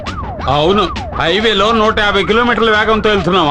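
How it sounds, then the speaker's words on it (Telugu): A car siren wails in rising and falling sweeps through a highway scene in a Telugu action film, loud and close, with someone talking over it. "ఏంటి ఆ సౌండ్? సైరన్ సౌండ్ అండి"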